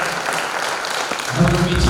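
Audience applause at a Krishna Pranami temple gathering welcoming a visiting guru, swelling loudly in the final half second after a stretch of crowd murmur.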